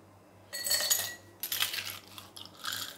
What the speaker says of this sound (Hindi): सबसे पहले ग्लासेस में हम डालेंगे क्रश्ड आइस